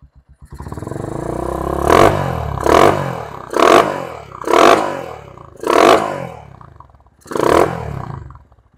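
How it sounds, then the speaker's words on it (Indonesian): Honda CB125 motorcycle exhaust revved in six strong, evenly spaced blips over a steady idle, each rising and falling quickly, close and loud with no one talking. "terus kita sepilkan untuk suara knalpot"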